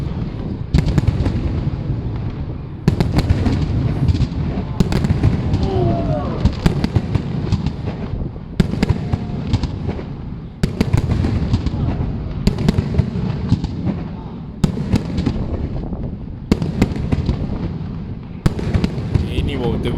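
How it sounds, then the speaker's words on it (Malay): Fireworks burst overhead in loud, repeated booms and crackles, with a fresh volley roughly every two seconds, while voices talk excitedly beneath the blasts. "Ini baru betul bunga api."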